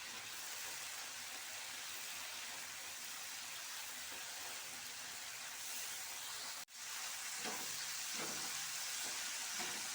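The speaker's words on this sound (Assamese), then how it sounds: "আদা পিঁয়াজ নহৰু কেঁচা গোন্ধটো যোৱালৈকে অলপ লৰাই লৰাই ভালদৰে ভাজি ল'ব লাগিব" Onion, garlic and ginger sizzle steadily in hot oil for an egg korma while being stirred, a close, even frying hiss with a few soft stirring knocks near the end and no voices.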